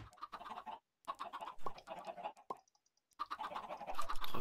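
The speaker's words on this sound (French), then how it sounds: "Je tue des poulets" Chickens cluck in the video game Minecraft, short clipped clucks in bursts broken by brief silences, fairly close and clear with no talk over them.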